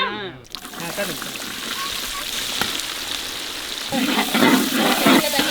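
Small chopped shallots hit hot oil in a pan at an outdoor cookout, a steady sizzle and crackle that swells louder toward the end, with a brief voice at the start.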